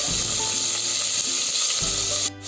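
Chopped onion hits hot oil in a pan for a spicy tempering, producing a dense, close sizzle with a faint low hum underneath that cuts off briefly at the end, with no one speaking.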